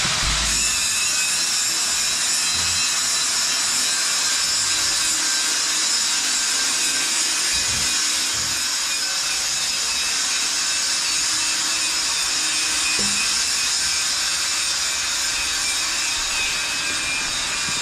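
Tile setter running a power cutter through tiles at an ongoing construction project: a steady, loud, continuous high-pitched grinding whine lasts throughout, with a few faint knocks underneath.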